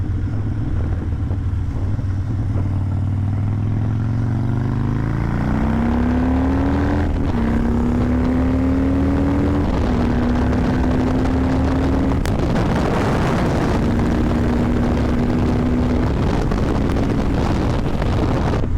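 A stock Harley-Davidson Dyna with a Twin Cam 88 engine revs and pulls hard under acceleration, its rising drone climbing in pitch through several gear changes, heard alone beneath steady rushing wind buffeting.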